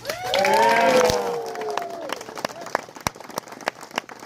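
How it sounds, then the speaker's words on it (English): Wedding guests clap for the couple, a burst of applause with a few cheering voices rising early, then thinning to scattered claps under a voice talking nearby. "would you give them a shout out and a hand clap right now?"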